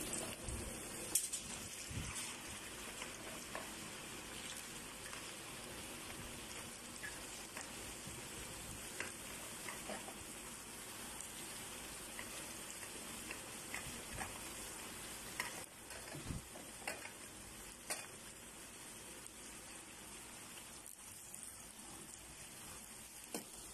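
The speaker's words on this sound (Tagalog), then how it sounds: "Ngayon guys, ilagay ko, una kong prituhin guys is yung potato." Potatoes dropped into hot oil, a steady dense sizzle and crackle like rain that runs throughout, close up with scattered sharper pops and occasional clinks.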